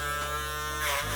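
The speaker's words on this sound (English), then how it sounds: "I'm then going to go in my foil shaver to make it extra skin." A foil shaver buzzes steadily at close range while shaving a skin fade haircut, its motor tone dipping slightly near the end as it moves over the head.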